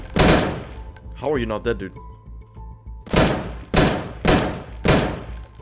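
Gunshots in the survival shooter game Deadside: a single sharp report, then after a spoken line comes a rapid series of four loud, evenly spaced cracks, close and punchy.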